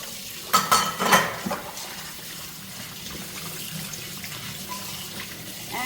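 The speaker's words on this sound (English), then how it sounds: "But I really like the idea that for at least once a week, I'm really scrubbing all the pet dishes." Pet dishes are washed under a running kitchen tap, with a few loud clattering knocks of bowls early on, then steady splashing water and light scrubbing continuing alone.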